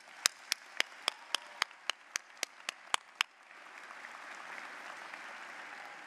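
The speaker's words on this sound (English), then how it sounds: "Please join me in applauding these special guests." At a 2022 School of Management commencement ceremony, about a dozen sharp, evenly spaced claps ring out close by, then stop and give way to a soft, diffuse crowd wash.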